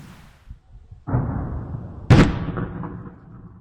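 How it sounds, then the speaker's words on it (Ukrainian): Powerful explosions near the Antonivskyi road bridge in Kherson, heard at night as a deep rumbling blast followed by a second sharp, louder boom, each echoing and decaying over several seconds. "у Херсоні прогреміли потужні вибухи у районі Антонівського автомобільного мосту"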